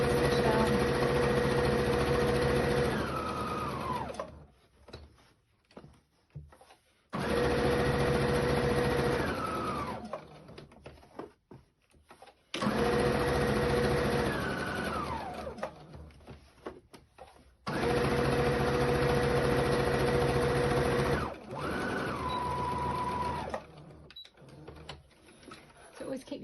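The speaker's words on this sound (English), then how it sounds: "we're going to stitch down, across and back up the other side, and not across the top edge here" A sewing machine stitches pieces of fabric bunting in four long, steady runs, each slowing at the end. Short pauses separate the runs, with faint handling sounds in them.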